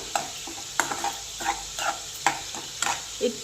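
Chili powder being stirred and fried in a pan for a small-fish curry, with repeated scraping stir strokes over a soft sizzle, close and fairly quiet.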